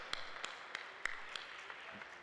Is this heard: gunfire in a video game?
no